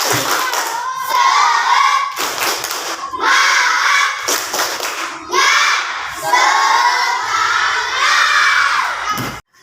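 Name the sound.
classroom students clapping for groups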